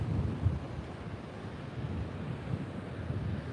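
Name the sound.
wind blowing into microphone at the coast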